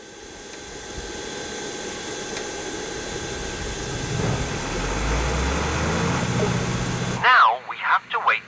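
In the Airport Sim game a ground vehicle's engine starts and runs with a steady, building rumble and low drone for several seconds, then cuts off abruptly as a voice begins speaking.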